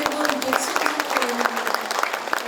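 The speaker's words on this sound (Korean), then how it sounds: "박수 한번 보내주세요" Brief applause from an audience at an agreement-signing ceremony, honoring council members, steady mid-level clapping with distinct sharp claps and a faint voice underneath.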